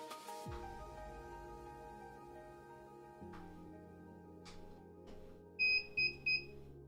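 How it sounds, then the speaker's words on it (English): A homemade embedded game device gives three short, bright beeps in quick succession as it boots, faint and close, over a steady low electrical hum. "it was a good idea to make this thing beep when it boots"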